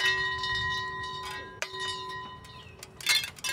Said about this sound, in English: 13 counterpublic participants carry long silver wind chimes up the tallest hill in Benton Park